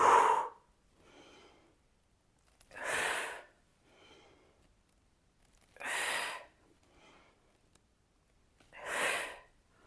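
Slow, controlled breaths during a Pilates dumbbell exercise: four strong, breathy exhalations spaced about three seconds apart, each followed by a softer inhale, close and alone in a quiet room.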